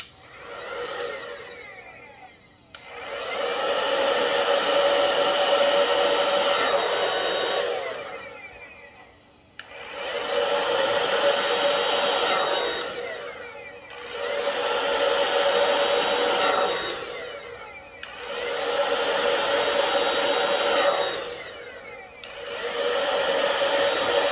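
Hair dryer blowing over poured acrylic paint in a bloom pour, a close, loud whooshing roar in repeated bursts of several seconds each, separated by brief pauses, with no talk.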